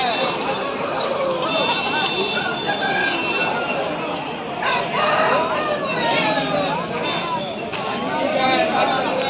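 Roosters crow repeatedly at a busy Sunday village market in Pileru, Andhra Pradesh, their loud calls mixed with hen clucking amid a dense crowd of people talking nearby.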